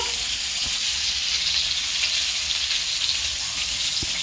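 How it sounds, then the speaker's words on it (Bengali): Chopped tomatoes fry in oil in a pan with an egg curry, giving a steady broadband sizzle that holds close and even throughout, with a few faint clinks and no voices. "টমেটোটা ভাজা ভাজা করে নিয়েছি"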